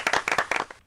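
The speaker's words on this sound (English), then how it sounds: "all you get is a round of applause, Bill" Short burst of applause from a radio phone-in show, a few people clapping close to the mic in quick uneven bursts that fade out within a second.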